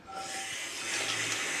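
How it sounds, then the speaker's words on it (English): A hot pan lowered into water gives a steady broad hiss and sizzle that grows slightly louder over its short length, close by, with a faint high tone near the start and no talking. "I do like this sound after you've put a hot pan into the water."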